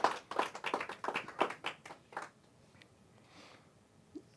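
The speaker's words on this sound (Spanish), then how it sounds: "Den un aplauso para el Eterno." Worshippers at a Spanish-language religious service clap in a quick, rhythmic burst for about two seconds, then the clapping fades out into quiet room noise with a single soft tap at the end.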